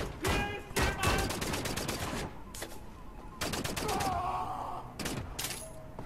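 Laser assault rifle in Wolfenstein: The New Order, fired in loud rapid bursts of sharp electronic shots with short pauses between volleys, metallic ringing tails, and some game effects mixed in, with no talk.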